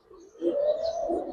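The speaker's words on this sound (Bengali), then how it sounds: "একদম নতুন কবুতর, লং টাইম ইনশাল্লাহ ডিম বাচ্চা করতে পারবো।" A domestic pigeon gives one soft, close, low coo that swells and holds for about a second in a quiet space.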